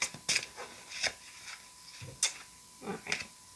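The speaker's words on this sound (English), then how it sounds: "let me shuffle a little bit more" Tarot cards shuffled in a few quick bursts, soft riffling and rubbing with brief pauses between, close by and quiet, no talking.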